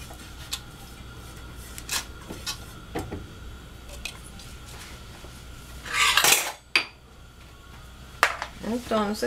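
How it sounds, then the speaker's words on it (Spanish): Catfish pieces turned in oil in a pan, heard as scattered near clinks and scrapes of a utensil against the pan over a low background, with a louder clatter and some speech later on. "las estamos volteando constantemente hasta que estén doradas"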